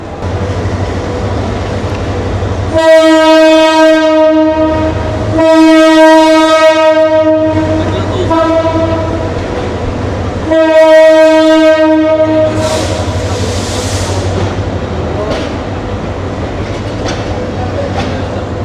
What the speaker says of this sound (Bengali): তিন থেকে চার মিনিটের মধ্যে ট্রেন ছাড়িয়ে দেবে